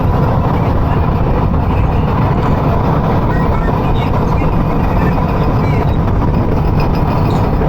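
A train crossing the Jamuna bridge in Bangladesh, heard from inside a carriage on the Dhumketu Express, with a loud, steady rumble and rattle running continuously throughout.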